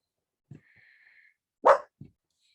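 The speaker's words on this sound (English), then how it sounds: "Sorry about my dog barking there." A single sharp dog bark, fairly close, with a few soft thumps and a faint tone before it.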